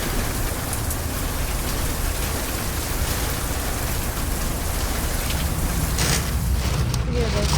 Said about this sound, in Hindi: ये आवाज सुनो बालाजी ने क्या बारिश करी है क्या गड़े पड़ रहे हैं